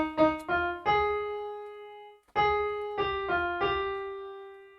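Keyboard playing a short melodic phrase from a tune from Tamasha, struck notes sounding one after another in two groups with a brief pause between, each note ringing and decaying, clear and alone.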